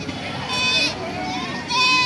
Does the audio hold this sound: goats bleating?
yes